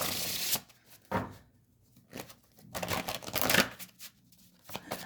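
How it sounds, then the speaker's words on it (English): Oracle cards being shuffled by hand, giving a few short papery riffling bursts separated by quiet pauses, close and fairly soft. "I keep seeing a certain card when I'm shuffling"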